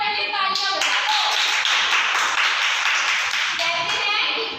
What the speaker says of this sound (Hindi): अरे पूनम के लिए तो पहले तालियां बजा दो